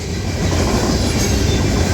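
A loaded southbound freight train passes close by on railroad tracks, a steady loud rumble with rolling wheel noise throughout and no talking.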